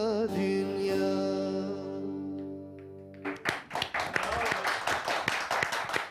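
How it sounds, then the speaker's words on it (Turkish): A studio audience on a Turkish TV folk music program bursts into lively, dense clapping right after a sustained sung note ends, the applause filling the last few seconds close and loud. "Her hafta böyle alkışlayanlarımız olsa değil mi?"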